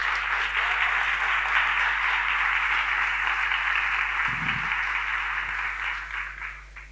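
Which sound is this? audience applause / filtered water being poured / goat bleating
audience applause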